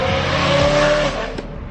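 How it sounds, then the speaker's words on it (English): A loud BMW E92 M3 at a car meet in Alameda, its engine and exhaust roaring close by with a steady howl, then the note drops away near the end with a brief sharp burst. "Goofer's back at it again, guys, with the crazy ass, loud ass M3."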